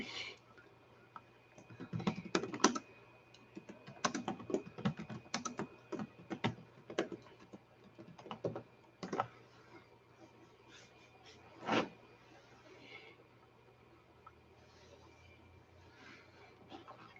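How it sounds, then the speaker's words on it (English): Typing on a computer keyboard comes in irregular bursts of quick clicking keystrokes, fairly close and quiet, with pauses between runs and a faint steady hum underneath. "Let me type that out."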